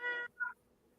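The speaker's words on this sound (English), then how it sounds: "Oh, I hear kitty." A cat meows twice, one longer call followed by a short one, faint and fairly close in a quiet indoor room.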